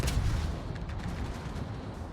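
A ship's main gun in World of Warships fires a single heavy shot, a deep boom at the start trailing into a low rumbling roar of naval battle, with no speech.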